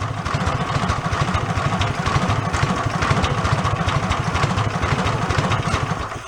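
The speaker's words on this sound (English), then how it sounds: "I go idle and slow" A big-engine amusement park go-kart idles loud and close, its rough, rapid thumping firing pulses holding an even, steady rhythm with no talk over it.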